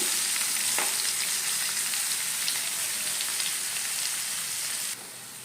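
Onions and green chillies fry in a pan for wheat rava upma, a loud, steady sizzle and crackle throughout that drops noticeably quieter near the end.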